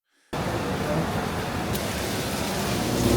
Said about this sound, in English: The rain pours out of nowhere.